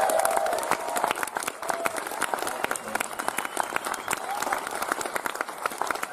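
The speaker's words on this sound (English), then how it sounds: "So I just want us to give Josh a massive round of applause." Audience at a Raindance Film Festival Q&A applauds director Joshua Trigg, a dense, steady round of clapping from a crowd that holds for several seconds with some cheering mixed in.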